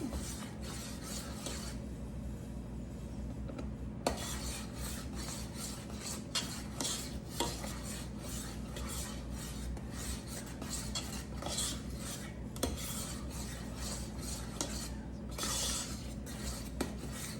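Strawberry pie glaze is stirred in a pan, a continuous close scraping and rubbing of a utensil against the pan with occasional light clinks, steady throughout with no talking.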